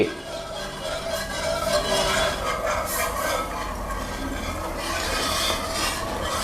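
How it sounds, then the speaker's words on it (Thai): Flour batter being stirred in a pot over low heat for a Thai sweet, a continuous scraping and swishing of the spoon against the pot, close and steady with no talk. "ให้เราจุดไฟขึ้นมาใช้ไฟอ่อน แล้วคนไปเรื่อยๆครับ จนกว่าแป้งจะได้ที่"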